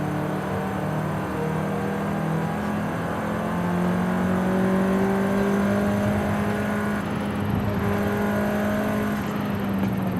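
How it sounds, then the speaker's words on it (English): Turbocharged 4-cylinder engine of a 2014 Volkswagen Golf R accelerating steadily, a smooth continuous drone rising in pitch under light road and wind noise, close and loud throughout with no talking. "Not really a fan of the 4-cylinder sound, I'll be honest, man, but this one don't sound too bad."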